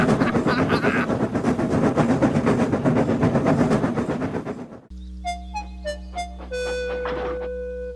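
Train from a Trainz railway simulator, a busy rhythmic chuffing and rolling clatter for about five seconds that cuts abruptly to sparse tonal hums and short beeps.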